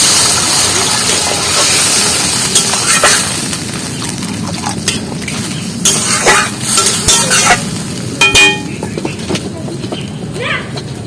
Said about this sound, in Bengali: এবার কিছুটা জল দিয়ে দিচ্ছি